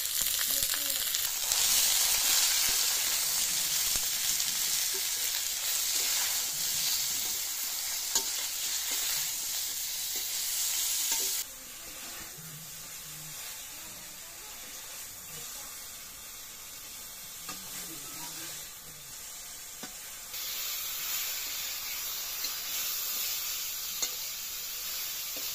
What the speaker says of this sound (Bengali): বেগুন ভাজা হয়ে গেছে, এখন তুলে নেব